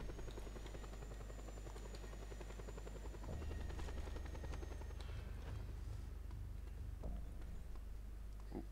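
A helicopter in the video game Just Cause 2 drones steadily with a deep rotor thump and whine as it comes down to land, continuous and fairly close throughout.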